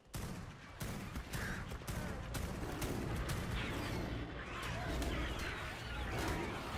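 Weapon fire in ARK: Survival Ascended, a string of sharp shots early on giving way to a dense, rumbling barrage of game combat noise, fairly faint, with no talk.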